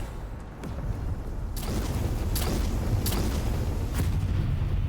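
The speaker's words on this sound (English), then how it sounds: "That's a pretty neat explosion." A ship explodes in the space strategy game Sins of a Solar Empire II, a loud rumbling blast followed by a sustained roaring burn with several sharp bursts and crackles, with no voices.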